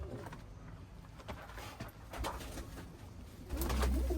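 Performance tumbler pigeons coo in low, soft repeated calls against steady background noise, with a louder burst of cooing near the end.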